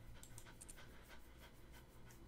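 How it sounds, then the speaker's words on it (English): A dog pants steadily and quietly indoors in a room, its quick breaths repeating close by with no talk over them. "Oh, you get to hear Isis just sitting here panting"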